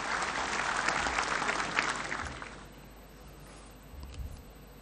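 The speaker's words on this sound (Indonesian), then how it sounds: "Kita berikan aplaus pada teman-teman dari partai-partai politik yang datang malam hari ini" Audience at the NasDem party's third congress breaks into applause, dense clapping that fills the hall for about two seconds, then thins out into scattered claps and faint room noise.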